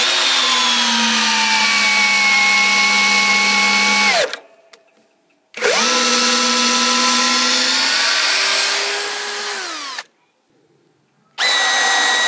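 A Parkside Performance 12V cordless drill-driver from Lidl drives a 20 cm screw, 13 mm in diameter, into wood in loud whining bursts whose pitch sags under load, with two short pauses between runs.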